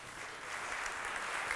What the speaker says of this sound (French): Bienvenue à tous les deux, on peut les applaudir.